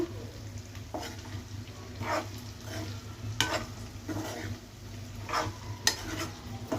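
Raw banana fry with chili powder stirred in a hot pan, with a continuous sizzle under repeated scraping strokes of a spatula at an irregular rhythm, close and clear with no talking.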